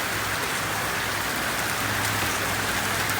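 Steady rain pours down over a backyard swimming pool, a dense, even hiss of drops hitting water and surfaces that stays constant throughout.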